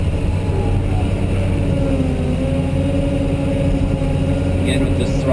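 Caterpillar 988H wheel loader engine droning steadily while digging into a pile in first gear with the throttle locked, a constant close rumble with tonal whine throughout and no clear pauses.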